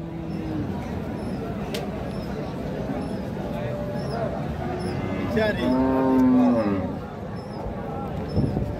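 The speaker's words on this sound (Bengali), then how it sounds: "সঙ্গে বকনা বাছুর মানিক ভাই।" Cattle moo nearby at a cattle market, Friesian and crossbred cows with calves, one long low bellowing call in the middle with fainter lowing around it, over a murmur of background voices and farmyard noise.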